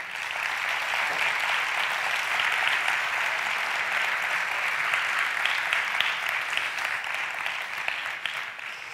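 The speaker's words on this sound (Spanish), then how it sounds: "Un fuerte aplauso" A large crowd applauding steadily, dense and sustained clapping that fills the whole stretch without pause.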